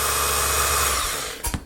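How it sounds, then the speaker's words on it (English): A power tool fitted with a cutting disc runs on low power with a steady whine that fades as it spins down, ending in a couple of brief knocks. "I was going to use a sanding wheel, but I already had the cutting disc on there"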